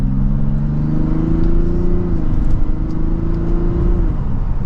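A 2025 Mazda CX90 Turbo S Premium Plus accelerates hard in sport mode, second gear, its engine tone climbing steadily, dipping briefly at a shift, then pulling again, loud and close from inside the cabin.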